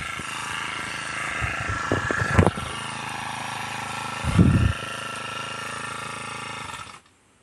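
A grass cutter engine running steadily nearby outdoors, a constant droning hum with a couple of louder revving surges before it cuts off abruptly near the end.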